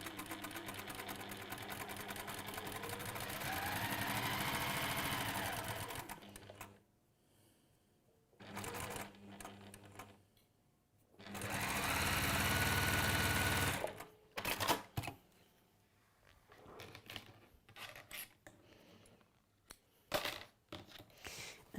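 A sewing machine stitches fabric in quick rattling bursts, running steadily for several seconds, pausing, then running again, with scattered softer clicks and handling noises between runs.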